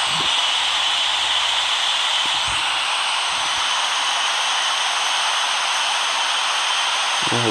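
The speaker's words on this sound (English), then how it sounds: "好大雨" Heavy rain drums steadily against an Airbus A330-300 in a flight simulator game during takeoff, a dense, even hiss that holds unbroken for the whole stretch, with a few faint low thumps early on.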